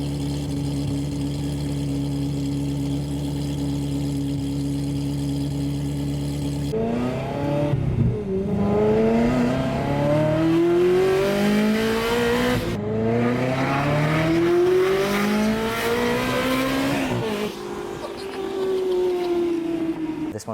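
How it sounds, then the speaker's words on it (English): A Ferrari V8 sports car engine idles with a steady drone, then revs hard several times in rising, howling sweeps, loud and close. "Classic Formula One V8 sound"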